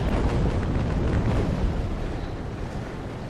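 Cannon fire from a sailing warship in the Naval Action naval combat game, aimed at a small Snow-rigged ship: a loud, sustained booming rumble that rolls on and slowly fades, with no voices.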